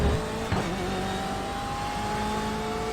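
A BMW M8 race car in iRacing at Road Atlanta, its engine droning steadily at high revs with a brief gear-change blip early on, loud and close throughout.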